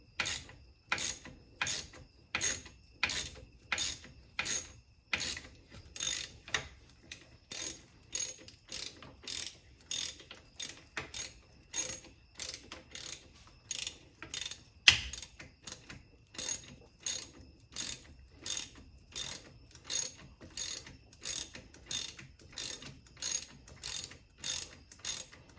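A ratchet wrench loosens a bolt during a brake pad change on a 2020 Dodge Charger Scat Pack widebody, rapid repeated clicking bursts in a steady rhythm of quick back-and-forth strokes, close and crisp, with no talking.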